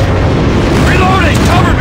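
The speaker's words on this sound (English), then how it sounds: "Friendly airstrike incoming" A friendly airstrike in an assault-rifle shooter video game lands as a loud, continuous rumbling blast with heavy low-end roar and crackle, a voice briefly audible over it.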